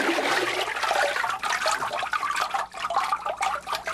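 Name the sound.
forming paper sheet with mold in vat of pulp water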